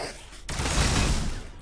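Gunfire from a Warhammer 40000 Battlesector multiplayer battle, Necrons against Astra Militarum: a dense, roaring volley that erupts abruptly and holds steady at full loudness before tapering slightly, with no talk over it.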